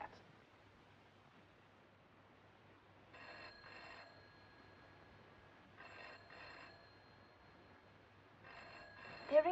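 A vintage 1940 telephone rings in a room, three short double-burst rings spaced a few seconds apart over a quiet hissy background, moderately faint and alone.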